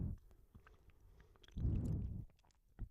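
Close, quiet chewing of a chewy Ikea snack: soft moist mouth clicks, then one thicker squishy bite-and-chew burst in the middle, followed by a few light wet smacks.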